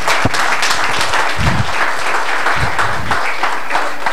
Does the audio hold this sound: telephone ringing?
no